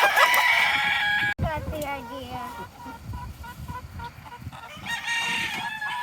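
Free-range chickens on a farm, a rooster's crow and hens clucking near and far, mixed with outdoor bustle while a person talks briefly.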